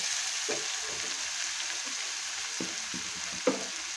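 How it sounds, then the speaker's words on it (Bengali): Bitter gourd and pointed gourd frying with turmeric in a pan for a Bengali chorchori, giving a steady close sizzle with a few scattered stirring scrapes and clicks, one sharper knock near the end, and no voices. "উচ্ছে আর পটল আমার প্রায় ভাজা হয়ে এসছে, আর এখন আমি দিয়ে দেবো হলুদ।"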